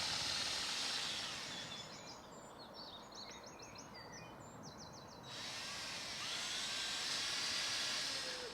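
A power drill runs in a garden, a steady high whine sustained for several seconds, pausing briefly and then resuming loudly, with birdsong chirping faintly in the background.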